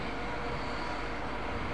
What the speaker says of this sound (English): 86207 City of Lichfield departs with train number 1G38, the 1640 service for Wolverhampton